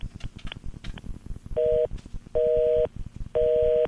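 A telephone line answers a dialed number with a busy signal: after a few clicking keypresses, three evenly spaced, steady two-tone beeps sound loudly, each lasting about a third of a second.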